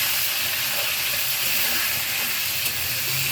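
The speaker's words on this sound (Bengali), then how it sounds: "এখানে মাছের মাথার সাথে পেঁয়াজ রসুন ভেজে আদা রসুন বাটা দিয়েছি" A hilsa fish head fries with chopped onion and garlic, giving a loud, steady, close hiss of sizzling oil throughout the short stretch.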